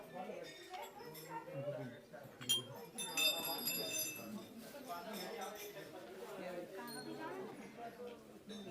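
Bells clink and ring out repeatedly, bright and overlapping, at the Golu Devta temple in Chitai, heard amid a steady murmur of crowd chatter and voices.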